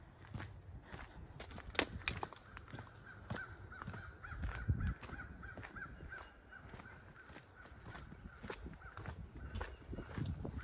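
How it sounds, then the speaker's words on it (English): Scattered crow caws ring out at a distance among outdoor noise, with some light footsteps or rustling nearby. "Mr. Crow in the background."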